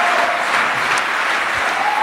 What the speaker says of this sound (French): c'est normal que ça applaudisse